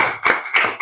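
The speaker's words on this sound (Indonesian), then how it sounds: "Kasih tepuk tangan untuk Alika dengan Wiji." Schoolchildren in a classroom give a quick round of hand claps, two short bursts of sharp claps heard close and loud.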